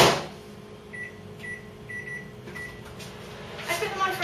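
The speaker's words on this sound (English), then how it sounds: "I'm going to put these in the microwave." A microwave oven runs steadily while softening potatoes in a little water, its low hum and fan whir carrying under faint kitchen clatter, with a few brief high beeps partway through.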